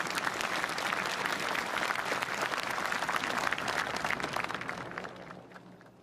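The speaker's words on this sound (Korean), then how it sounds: "아름답고 감동적인 공연을 선보여 주신 세 분께 여러분 큰 박수 부탁드립니다" Audience applause following a performance at a 100th anniversary March 1st commemoration ceremony: dense, sustained clapping from a large crowd, loud throughout and tapering off near the end.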